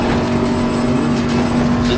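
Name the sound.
video game race car engine echoing off wall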